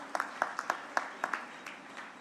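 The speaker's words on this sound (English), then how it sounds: "a big round of applause for the hard work" A sparse round of hand claps from a small audience honoring the organizing committee and staff at an Orientation Day 2024 event, with roughly a dozen distinct claps spaced irregularly and fading toward the end, nearby and moderately loud.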